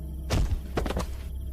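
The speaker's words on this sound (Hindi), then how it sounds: "तभी मंदिर के बड़े दरवाजे पर किसी ने जोरदार वार किया" A heavy blow lands on a big temple door as a story sound effect: a deep, booming thud followed by a second rattling impact, close and forceful, with no speech.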